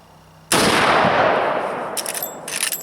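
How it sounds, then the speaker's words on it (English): A Marlin 45-70 Guide Gun rifle firing a 300 grain round outdoors: one sudden, very loud shot that booms and then rolls away in a long, slowly fading echo. "I'm going to fire 1 or 2 rounds"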